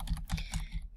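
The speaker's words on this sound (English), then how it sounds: "Control I on your keyboard to invert the layer" Rapid computer keyboard keystrokes for Photoshop shortcuts, about five distinct clicky taps in one second, close and clear with no talking.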